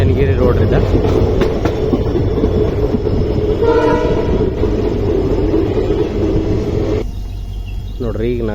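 An express train pulls into Shivamogga railway station, its loud rumble and wheel clatter easing as it slows, with a short horn blast midway and a squealing brake tone near the end.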